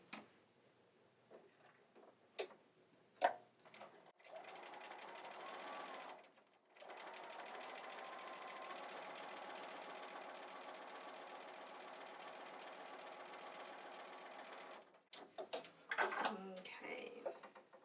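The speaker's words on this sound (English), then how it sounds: "I'm going to sew a 1/4 inch seam." A sewing machine stitching a quarter inch seam on a quilt block, running steadily for about ten seconds with a brief pause, preceded and followed by small clicks and handling noises, close and clear with no talk over it.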